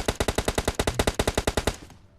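Rapid machine gun fire in PUBG Lite: about sixteen evenly spaced, loud, sharp shots in one continuous burst that stops abruptly, leaving a short decaying tail. No voices.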